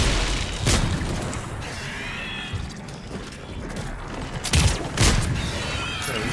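Artillery fire in the Mass Effect 3 video game, a few heavy booming impacts spread across a dense, rumbling battle backdrop with some mechanical clatter.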